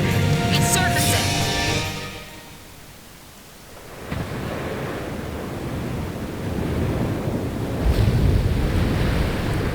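The submarine Rimfaxi surfaces through the sea in Ace Combat 5, giving a loud, broad rush of churning water and wind-like roar that dips briefly, then swells again with heavy surging noise.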